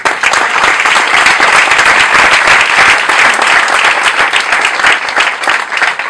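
A congregation at a church service applauds loudly and steadily, a dense, continuous wash of many hands clapping close by for several seconds.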